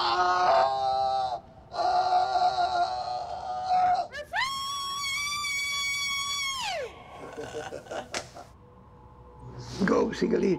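Several people scream and wail together in a liberation ritual, long loud sustained cries with one rising, held screech in the middle, mixed with shouting voices and moaning, close and intense throughout.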